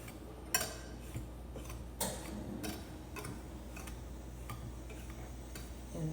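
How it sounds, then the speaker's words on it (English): Sugar and self-rising flour being whisked together in a bowl: a quiet run of irregular light ticks and clinks as the whisk taps the bowl, with a faint low hum beneath. "whisk that together a little bit"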